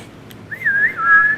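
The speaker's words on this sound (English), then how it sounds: "I can't even whistle properly. I have to whistle in as well." A person whistles by breathing in, producing a short wavering tone that rises and settles, close and clear with no talk.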